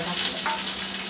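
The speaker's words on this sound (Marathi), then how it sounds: "कांदा टाकला." Onion added to a hot pan with coriander seeds, curry leaves and green chilli for vada pav fries with a brief, steady hiss, loud and close, with no talking.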